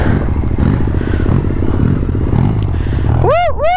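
A Yamaha Ténéré motorcycle engine runs steadily and loud throughout, with rough mechanical clatter and a rising whine near the end.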